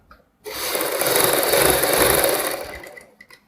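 A sewing machine runs in one steady burst of close, rapid mechanical whirring and stitching for about two seconds, stitching the elastic waistband part of a saree, starting and stopping abruptly.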